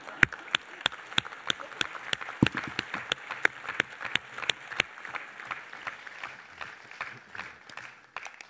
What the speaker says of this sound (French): un dernier tonnerre d'applaudissements pour Wassim.